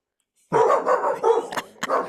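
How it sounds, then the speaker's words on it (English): Several dogs bark in a quick series of overlapping, fairly close barks with short gaps between them, carrying on steadily for about a second and a half, with no talking heard over them. "You hear those dogs, Jackson?"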